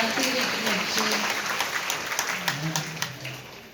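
A large audience at a spiritual gathering breaks into sustained applause, dense and steady at first and then thinning, while a voice speaks faintly beneath the clapping.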